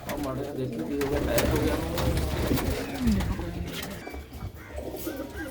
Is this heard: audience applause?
no